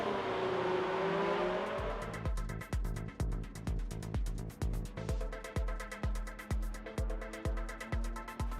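Formula 1 cars race around the Singapore street circuit in the F1 2019 video game, engines screaming through rapid, rhythmic gear changes and revs, with a car braking hard into a corner and locking its brakes, loud and continuous.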